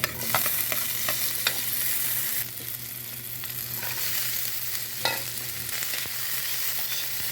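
Onions fry in hot oil in a pan, a continuous sizzle with repeated scraping and tapping of the spatula as they are stirred, close and steady, no voices.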